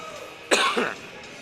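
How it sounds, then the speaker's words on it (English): A single hacky cough breaks out in a quiet gym during a live-streamed junior varsity boys basketball game: one harsh burst followed by a shorter second hack, close and fairly loud against faint background hum. "still with a little bit of the hacky cough"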